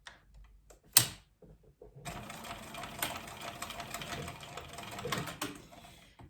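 After a sharp click, a sewing machine with a size 90 needle and 3.5 stitch length runs steadily, stitching fabric and cork for a tote bag in a fast, even mechanical whir that continues to the end.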